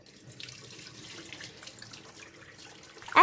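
Water runs from a tap into a sink while anchovies are washed, a soft, steady trickle with a louder splash right at the end.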